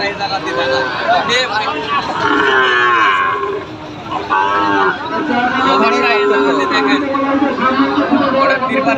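Sahiwal-breed calves moo repeatedly at the Raniganj cattle market in Bangladesh. The long, drawn-out lows sound close and loud over a constant babble of people bargaining nearby.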